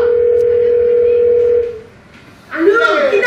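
A steady telephone tone, loud and close, holds for about a second and a half, then cuts out, and a person starts talking.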